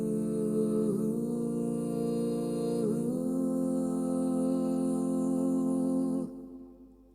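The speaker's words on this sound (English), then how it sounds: "I've just changed the harmony component of the preset to give me different kinds of harmonies, namely a low one and a lower one." Held vocal notes pass through a TC Helicon VoiceLive 3 harmony preset that adds a low and a lower harmony beneath, the thick chord stepping through a few pitch changes before stopping abruptly just past six seconds and fading out.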